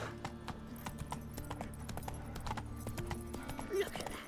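Hooves of Geralt's horse Roach in The Witcher 3, quiet rhythmic clip-clop of a trot or gallop over ground, with soft ambient game sound underneath.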